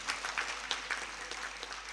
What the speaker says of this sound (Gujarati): તાળીઓથી એને આપણે બિરદાબાદ